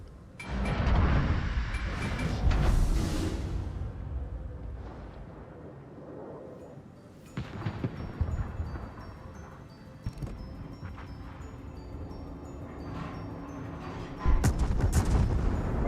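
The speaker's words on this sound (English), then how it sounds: "That's a fairly decent salvo." Naval gun salvo in World of Warships, heavy booming cannon blasts with a large opening volley, scattered later shots and distant impacts, ending in another loud burst, loud and reverberant.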